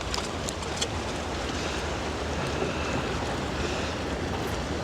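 Sea waves washing onto a Spanish beach, a steady broadband roar of surf with wind rushing across the microphone, continuous and fairly loud with no speech.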